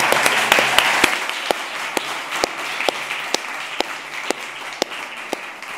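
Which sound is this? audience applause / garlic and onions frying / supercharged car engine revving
audience applause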